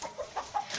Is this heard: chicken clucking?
yes